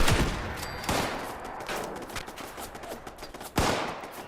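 A charged Gauss weapon in a video game fires critical shots as sharp, booming blasts: one at the start, another a second later, and a heavy third near the end, with a rumbling, crackling tail between them.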